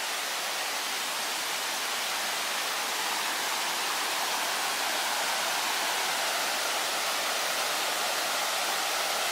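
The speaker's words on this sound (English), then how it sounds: "A little double waterfall action going." A small double waterfall in a backcountry creek at Spruce Knob–Seneca Creek in fall gives a steady, even rush of falling water, close and continuous, with no voices.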